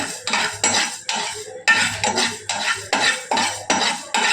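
Parboiled rice and fenugreek dry roasting in a pan, a spatula scraping and stirring in a steady rhythm of about ten close, crisp strokes, with no voices.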